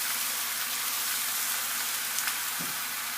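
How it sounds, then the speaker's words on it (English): Fajita meat coated in chipotle rub sizzles steadily on a hot grill pan, a constant close hiss of frying with faint crackles and no talking. "I hope you can hear that sizzling."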